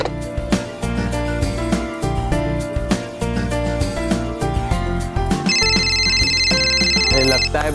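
A phone ringing with a bright repeated electronic trill over loud dramatic background music, rising clearly in the second half and continuing to the end.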